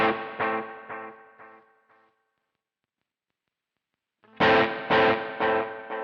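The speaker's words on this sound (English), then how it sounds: "And this is the analog echo." Electric guitar played through a Joyo Aquarius delay pedal set to analog echo mode: a few plucked notes with repeating, darkening echo tails fade out, then after a pause another loud burst of strummed notes with echoes.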